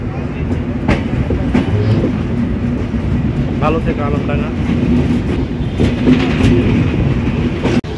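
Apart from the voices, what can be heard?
Chitra Express passenger train running on rails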